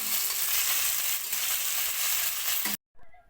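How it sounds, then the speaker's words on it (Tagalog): String beans stir-frying with squid flavour in a pan give a loud, steady hiss and sizzle for nearly three seconds before cutting off abruptly into near silence with a faint trailing sound. "Luto na ang aming stir fry string beans"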